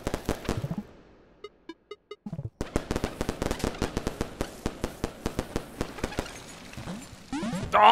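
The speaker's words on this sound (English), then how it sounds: "I think I need to use firecrackers." Firecrackers go off in the game Animal Well, a rapid string of sharp, loud cracks and pops that briefly pauses for a quieter chiming moment before resuming in quick bursts.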